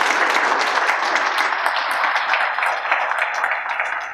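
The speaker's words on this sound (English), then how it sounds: "So let's give a round of applause to the Desert Healthcare District." An audience applauds steadily for a healthcare district at a fundraising campaign announcement, with dense, even clapping that holds for several seconds and tapers slightly at the end.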